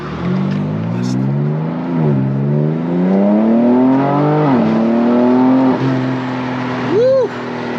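A BMW G82 M4 engine revs up through several gears, pitch climbing and dropping at each shift, loud and close as if from inside the car.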